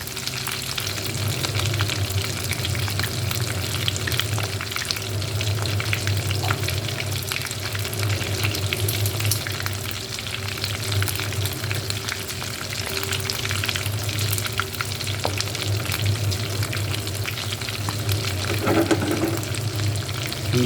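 Falafel frying in hot oil, a continuous close bubbling sizzle that holds steady throughout, with faint clinks and movement in the background.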